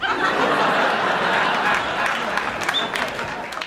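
Audience applause at a George Carlin comedy show, a broad wash of many clapping hands with a few laughs mixed in, loud at first and easing slightly toward the end.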